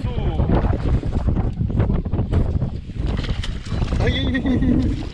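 A strong, cold south wind buffets a fishing boat on a sea bass trip off Porto Belo, a continuous loud gusting roar and microphone rumble under excited talk.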